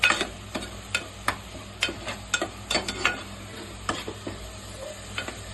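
An onion, ginger and garlic paste with turmeric fries in oil for a mutton curry, with a steady close sizzle and repeated scraping stirs of a spoon against the pan.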